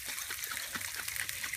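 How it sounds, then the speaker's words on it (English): A little water trickles into a marinara jar, a brief close splashing dribble, faint and steady throughout. "I put just a little bit of water"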